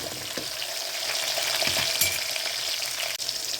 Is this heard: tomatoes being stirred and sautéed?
yes